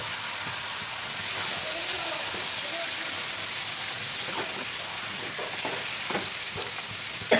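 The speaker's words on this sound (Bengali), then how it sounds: "এই পর্যায়ে দিয়ে দিলাম হচ্ছে যে ম্যারিনেট করা মাংস" Marinated mutton for Goalbari-style mutton kasha, cooked with papaya, fries in spice masala, giving a continuous close hiss with occasional spatters and light stirring scrapes toward the end; faint voices may sit underneath.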